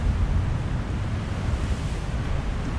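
Powerful surf breaks on a shore beside a winter wild camp, a continuous heavy roar of churning water close by, rough with wind buffeting the microphone and no talking.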